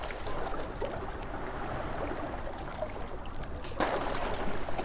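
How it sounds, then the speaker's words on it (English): Ocean waves breaking on a shore at sunset, a continuous loud broadband wash with a surge of stronger surf near the end, no talking. "These waves are so loud."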